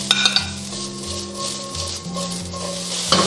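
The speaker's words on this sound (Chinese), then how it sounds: "然后紧接着我们把这个海鲜菇给它炒一下" Seafood mushrooms stir-fried in a wok with scallion and ginger in leftover oil from frying eggs, giving a steady sizzle with the scrape and clink of a spatula against the pan.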